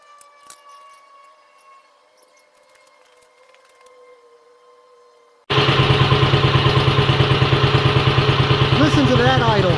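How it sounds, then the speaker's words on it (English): After a quiet stretch, the small engine of a 1955 Wheel Horse Senior garden tractor suddenly runs loud and close, settling into a steady, rhythmic idling chug. "Listen to that idle."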